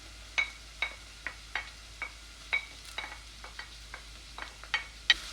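Sliced jalapeno peppers stirred into hot oil with onion in a pan, a quiet low sizzle punctuated by a dozen rhythmic spoon scrapes and light clinks, close and without voices.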